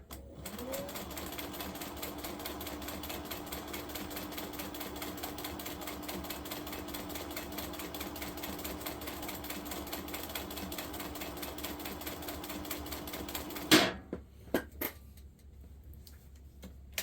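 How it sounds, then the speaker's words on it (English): A Singer 20U sewing machine driven by a servo motor stitches at a slow, steady pace, with an even mechanical whir and rapid ticking running for about fourteen seconds before stopping, followed by a few clunks. "It's sewing at a nice slow speed."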